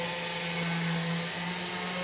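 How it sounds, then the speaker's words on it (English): Drill boring a hole through a stone bead held over a water-filled bowl, a steady high-pitched whine at constant speed, close and unbroken through the brief clip. "you want to keep your drill going at a pretty good speed"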